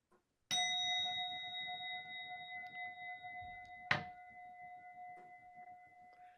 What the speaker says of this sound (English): I will thank the speaker and ring the gong